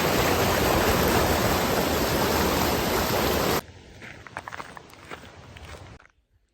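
A river rushes near a hiking trail on Mt. Baldy, a loud, dense, steady roar of flowing water. It cuts off abruptly, leaving quieter scattered sounds before silence.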